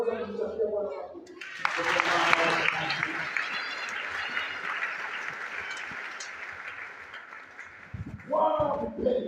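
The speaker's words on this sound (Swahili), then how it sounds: "Naweza kumsifia Bwana makofi." A church congregation breaks into clapping to praise the Lord, a broad wash of many hands that swells after a spoken line, holds steady for several seconds, then fades as a voice resumes.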